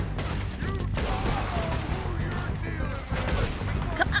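Gunfire in Red Dead Redemption 2, a dense volley of loud game gunshots over a continuous rumbling backdrop, with several sharp reports near the end.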